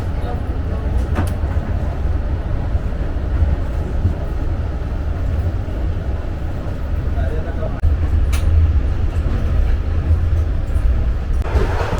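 Interior of a moving premium luxury train running from Hue to Hanoi in Vietnam: a steady low rumble and rattle of the carriage on the rails, continuous and moderately loud, with brief clanks.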